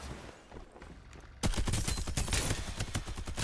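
Gunfire in the battle royale game Farlight 84 erupts suddenly after a quiet stretch, a loud continuous burst of rapid shots and impacts that keeps going to the end.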